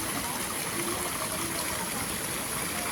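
A stream rushes and gushes in a steady, dense wash of flowing water, close and loud throughout at a stream called Wong Lung Hang.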